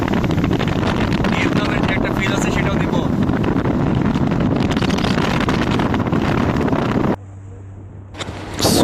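A boat cruises between small islands off Penang, Malaysia, its steady engine and rushing water roaring loudly under heavy wind buffeting before the noise briefly drops near the end.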